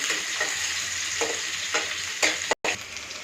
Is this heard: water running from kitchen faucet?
no